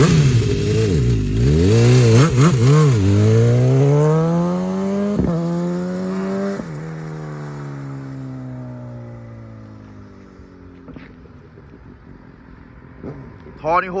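A BMW S1000XR motorcycle revs and accelerates, its loud engine note sweeping up and down through the gears before settling into a steady fading drone, with voices talking over it.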